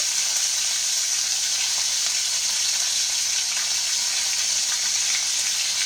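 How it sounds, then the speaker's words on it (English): Fat on a shoulder roast frying and searing in a hot pan, giving a steady, loud, broadband sizzle that holds level throughout with no talk. "pick it up and try to fry that fat just a little bit"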